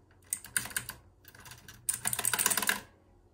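Keys on a light-up gaming keyboard are pressed in two quick bursts of crisp, close clicking, a short flurry, then a pause, then a denser run of rapid keystrokes.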